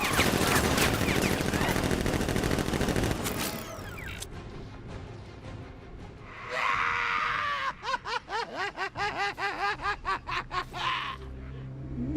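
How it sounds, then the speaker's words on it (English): Gunfire follows a shouted order to open fire: a dense fusillade of rapid shots, then a rhythmic series of separate bursts, loud and close in a chaotic battle scene. "Open fire! Shoot everything, now!"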